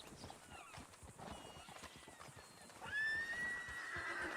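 A horse in a Western video game clip-clops along at a steady walking rhythm, then gives a clear, high whinny near the end, the hoofbeats continuing underneath.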